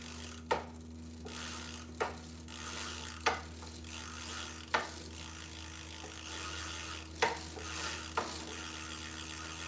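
A Ridstar Q20 e-bike's freewheel ratchet clicks in sharp, separate bursts as the pedals turn, about every second or two, close up over a steady low electrical hum.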